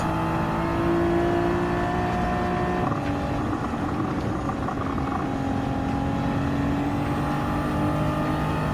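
Toyota GR86 2021 race car in Gran Turismo 7, racing on the Tokyo Expressway: a steady, loud engine drone holds throughout with gear-shift pitch changes, tyre and wind noise underneath, and no talking.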